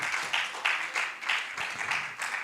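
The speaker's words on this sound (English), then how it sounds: "Let's give them a round of applause as they take the picture." A conference audience at a digital assets summit claps during a group photo on stage, a moderate patter of scattered applause with slight rhythmic pulses, no voices over it.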